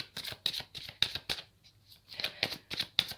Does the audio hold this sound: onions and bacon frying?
no